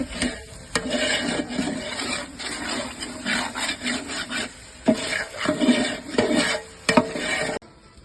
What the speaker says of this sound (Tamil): பூண்டு 300 அடுத்து போடுங்க. பாருங்க, கட்டி நல்லா கலக்கி கிண்டிடுங்க.